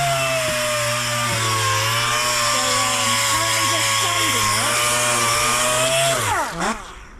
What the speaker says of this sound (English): Currently just sanding it.